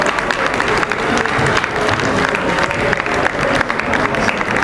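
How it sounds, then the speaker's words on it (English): Theatre audience applauding performers at a Lagos international theatre festival cultural display, dense steady clapping from a large crowd throughout, loud and continuous. "Give the applause going for them, please."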